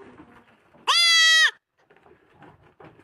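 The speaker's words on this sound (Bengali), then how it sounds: "ওই যে ছাগলটা ডাকতেছে" A goat gives one clear, loud, drawn-out bleat of about half a second, bracketed by faint, indistinct voices before and after.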